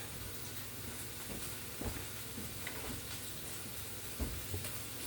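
Hamburger meat frying on a flat griddle for a chopped cheese gives a soft, continuous sizzle, broken twice by brief scraping knocks from a spatula.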